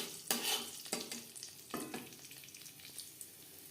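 Whole cumin seeds frying in oil in a wok after potatoes were cooked in it, with a close, steady sizzle broken by several loud scraping stirs of a spatula, no voices.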